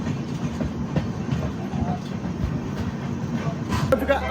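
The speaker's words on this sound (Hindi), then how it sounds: "फिलहाल अपनी ट्रेन पहुंच रही है इंदरगढ़ सुमेरगंज मंडी" A Trivandrum Rajdhani Express rolls into Indergarh Sumerganj Mandi station at night, heard from on board as a constant loud rumble with clicking wheels on the rails and faint talk underneath.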